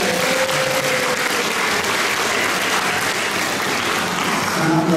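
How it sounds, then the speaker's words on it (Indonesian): Congregation applause at a church ceremony for pastors, a loud, dense, sustained clatter of many hands clapping, nearby and continuous with a faint voice or tone mixed in. "tepuk tangan untuk saya"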